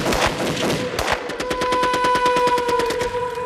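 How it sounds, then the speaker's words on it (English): Automatic weapons fire in a sustained, rapid hail during the 1993 Waco siege, with dense overlapping bursts settling into a steady machine-gun rhythm, loud and close with no voices. "nothing prepared the ATF for the hail of gunfire they now faced."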